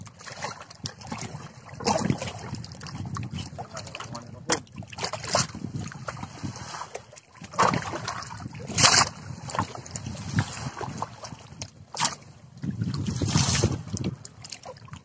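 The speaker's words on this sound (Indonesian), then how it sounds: "Jadi kita siram dulu pakai air lumut 1 ember ya, biar ikannya ngumpul" Algae-laden water poured from a bucket into an outdoor tilapia fish pond, heard as several uneven splashing pours and trickles with wind buffeting the microphone.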